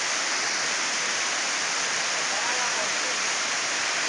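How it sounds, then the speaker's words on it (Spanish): A stream or waterfall's water jet near Bello, Antioquia, Colombia, heard as a loud, steady, close rushing hiss that continues unbroken throughout. "¡Está el chorro!"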